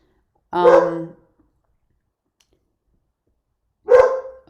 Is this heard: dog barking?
yes